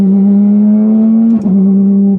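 A Porsche GT3 RS engine hums loud and close at quarter throttle, a steady high-pitched tone that rises slightly, dips briefly, then holds on.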